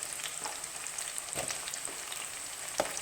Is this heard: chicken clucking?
no